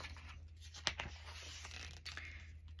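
Scissors snip pictures out of the glossy pages of an interior design magazine, soft and close, with a couple of sharper cutting crunches and light paper rustles over a quiet background hum.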